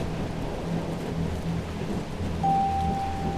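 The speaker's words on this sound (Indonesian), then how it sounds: "Hujan lebat dan petir yang menyambar membuat perjalanannya terasa mencekam." Steady heavy rain with low rumbling thunder rolling underneath, a continuous dense wash of sound heard alone with no voices.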